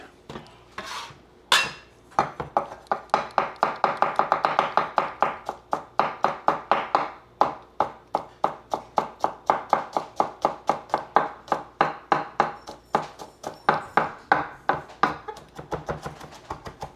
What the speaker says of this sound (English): chop up this garlic.